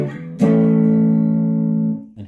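A clean electric guitar tone played with no pedal, one loud sustained chord struck and left ringing steadily for about a second and a half, then cut off.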